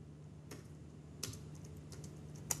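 Code is typed on a computer keyboard in a few sparse, quiet key clicks against faint background hum.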